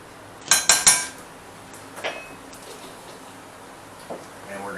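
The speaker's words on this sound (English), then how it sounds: "And we're going to stir that up." A spoon clinks against the side of a metal pot or bowl while parsley flakes are stirred into a mustard sauce for a Pennsylvania Railroad roast beef dinner. The sound is a quick burst of three or four close, bright clinks, then a few faint taps.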